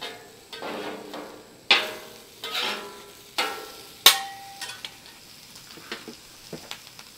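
Pork smash burgers and sliced onions on a griddle, a faint sizzle beneath a series of sharp spatula scrapes and clacks spaced a second or so apart, each ringing briefly before fading.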